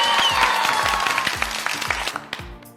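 A small group claps together at an online Sunday school game session, brief scattered claps over a ringing musical tone that fades as the clapping tapers off.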